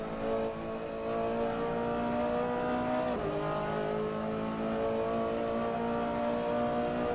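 A Ferrari GT3 race car in Assetto Corsa, its engine droning steadily at high revs on track, with one clear gear shift that drops the pitch briefly before it climbs again, heard on its own.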